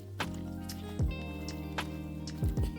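Water poured onto loose potting soil in a pot, giving wet squelching and dripping sounds with a few sharper splashes spread across a short stretch.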